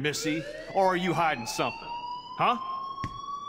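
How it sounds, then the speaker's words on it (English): A fire alarm in the game Life Is Strange rings as a steady high electronic tone that runs under several lines of close dialogue. "you hear that fire alarm? That means you should be outside."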